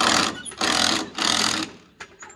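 A DeWalt impact gun works on the wheel bolts of a Subaru, three loud bursts of rapid hammering separated by short pauses, then a couple of quieter clicks near the end.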